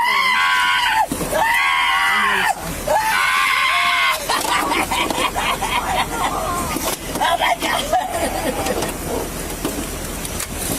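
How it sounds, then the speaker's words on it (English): Two people scream during a police arrest, with long, loud, repeated wails and then broken cries mixed with voices and background commotion. "They're both screaming now."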